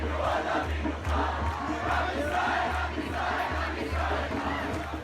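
A large outdoor crowd of over 10,000 people gathered outside a hall in Israel, a dense continuous murmur of many voices with a low steady hum beneath, heard from a distance and without a clear individual speaker.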